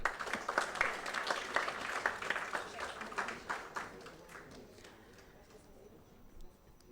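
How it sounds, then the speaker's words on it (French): An award ceremony crowd applauds prize winners at the Gov'athon 2025, with dense, loud clapping that holds for several seconds and then thins and fades away. "Merci de les applaudir."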